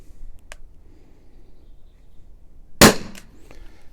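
An LTL Alpha 1.50 launcher firing rubber steel balls lets off a single sharp, loud crack near the end, preceded by a faint click, against a quiet background.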